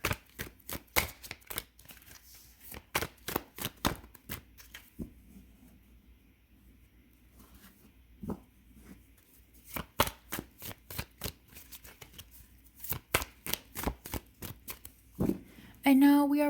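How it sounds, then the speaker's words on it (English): Tarot cards being shuffled in repeated crisp riffling bursts, close up, with a quiet pause in the middle before more rapid shuffling resumes. "I am going to shuffle these cards"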